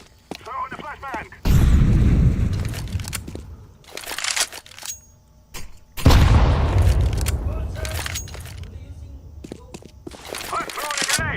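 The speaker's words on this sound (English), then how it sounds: "Throw in the flashbang." Flashbang grenade thrown in Counter-Strike 2, set among two heavy booming blasts with crunchy debris-like crackle and lighter game effects, loud and close, with a voice talking at times.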